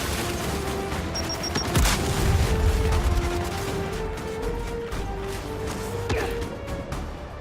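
A Gears of War 5 firefight with a grenade blast and a burst of rapid gunfire over a dense, rumbling battle din.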